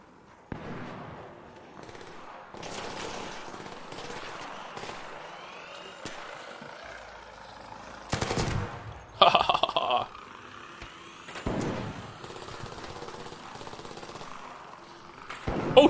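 Gunfire in the video game Pathologic, a series of sharp shots and bursts scattered over busy game noise, some loud and close, with several heavier blasts toward the middle and end.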